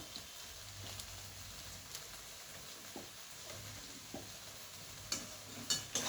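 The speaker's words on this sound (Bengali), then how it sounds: "কিমাটাকে ভালো করে এই ম্যাগি মশলা ধনে পাতা সব কিছুর সঙ্গে মিশিয়ে নিলাম" Minced chicken is stirred with Maggi masala and coriander leaves in a faintly sizzling pan, with soft scraping strokes and a few sharper clinks of the spoon near the end, quiet and without speech.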